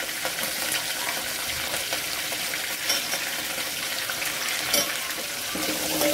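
Curry leaves crackle and sizzle in hot oil with asafoetida and green chillies, the tempering for a Marathi tur dal varan, a steady close frying hiss with small pops.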